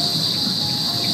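Loud, steady cricket chorus outdoors at night, a continuous high-pitched trill holding without break for the whole moment, with no voices over it.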